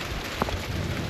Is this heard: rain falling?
yes